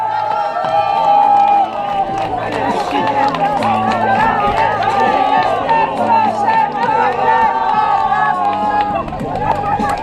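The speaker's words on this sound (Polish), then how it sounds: "wielkie, wielkie brawa" A crowd cheers and claps for young runners finishing a race at an outdoor May holiday event in Olsztyn, with a voice over a loudspeaker talking throughout, whoops and chatter rising around it.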